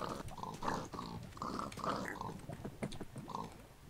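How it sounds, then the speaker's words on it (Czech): Pigs in a video game grunt and snort almost without pause for several seconds. The rough animal calls sound fairly close, with no talking. "Tady jsou prasátka."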